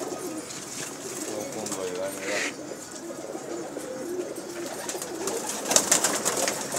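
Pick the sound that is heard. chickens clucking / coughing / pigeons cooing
pigeons cooing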